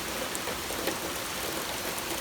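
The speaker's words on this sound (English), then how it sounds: "but this rain is. I love rain." Steady summer rain shower falls in Toronto, a dense even hiss of drops hitting surfaces with occasional louder drips, constant and fairly close with no talk.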